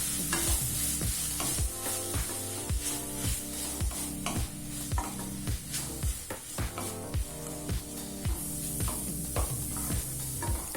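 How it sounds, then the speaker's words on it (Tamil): Mint leaves sautéing in a pan for coconut-free mint chutney, with a steady close sizzle and repeated rhythmic stirring scrapes throughout. "புதினாவை லேசா வதக்கினா போடுங்க"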